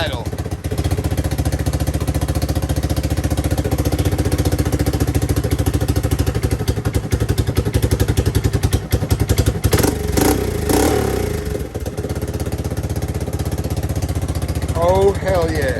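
A small ATV engine, a Yamaha 225DX or Kawasaki Bayou 220 in a shop, runs steadily with a loud, close, rough clattering idle throughout, with a few brief surges and a voice in the background.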